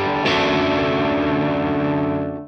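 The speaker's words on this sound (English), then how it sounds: "I've got it at about 4, which is a good classic overdrive sound." An electric guitar chord rings out through an Andrews Para Dyne 50 amp on its channel 2 overdrive, a single loud distorted strum sustaining and slowly fading.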